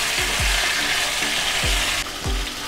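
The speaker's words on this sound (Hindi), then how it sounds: "चिकन शामिल कर देंगे, थोड़ा सा मिक्स कर देंगे" Chicken fries in a hot pan for chicken sukka, sizzling loudly under several rhythmic scraping strokes of a spatula stirring it through.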